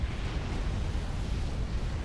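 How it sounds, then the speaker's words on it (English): Area-of-effect explosions in the real-time strategy game Supreme Commander merge into a continuous deep, rumbling roar with dense low crackle, loud and unbroken for about two seconds with no voices. "I heard AoE explosions"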